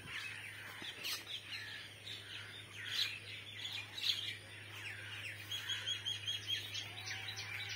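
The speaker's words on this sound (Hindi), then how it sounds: "जबकि इधर चिड़िया बोल रही है," Birds chirp and tweet repeatedly on a bamboo farm near Sargodha, bright overlapping calls at moderate distance over a steady low hum, with no talking.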